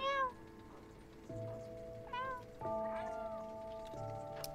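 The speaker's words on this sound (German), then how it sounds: "Oh, ein Kätzchen." A cat in a video game meows close and clear several times, with rising and falling calls over soft rain-like background noise and steady synth tones.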